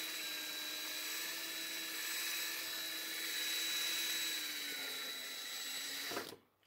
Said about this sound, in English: drill out that rivet just a little bit more.